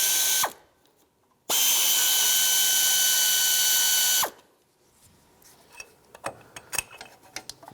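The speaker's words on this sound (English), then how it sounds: "I'm going to grab my air ratchet to speed things up" An air ratchet spins off bolts during timing belt work on a 1997-2001 Lexus ES 300, with one short burst followed by a loud, sustained whir lasting about three seconds, then quieter clicks and clanks of the tool and fasteners.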